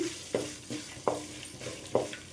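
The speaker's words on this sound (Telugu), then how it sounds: "ఈ విధంగా కలుపుకుంటూ వేయించుకోండి" A spoon stirs tempering spices, peanuts and cashews through sizzling oil in a pan over a medium flame, four sharp scraping strokes in an even rhythm over a soft continuous fry.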